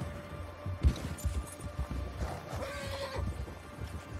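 A horse in Red Dead Redemption 2 gives a close, moderately loud neigh and whinny with soft hoof clops and game ambience underneath.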